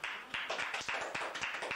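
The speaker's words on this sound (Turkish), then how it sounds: "Alkışlarınız." An audience claps in welcome for a Turkish folk singer at a 1989 Kırşehir event, a fairly faint, rhythmic patter of hands in steady repeated beats, close and unaccompanied.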